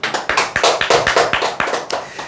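An audience at an insurance and telemarketing sales coaching seminar claps quickly and evenly, with about two dozen sharp, close claps crowded together over a couple of seconds.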